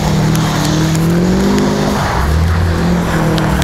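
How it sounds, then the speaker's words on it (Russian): A Subaru drifts on gravel among other four-wheel vehicles, giving off a loud, close engine drone whose pitch rises and falls, mixed with tire scrub and skidding noise. "Это приятный звук субарика."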